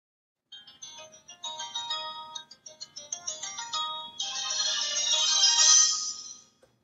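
An incoming phone call rings on two phones, producing a bright electronic ringtone melody of repeated tonal notes that builds into a dense, sustained ringing burst before cutting off; no talking.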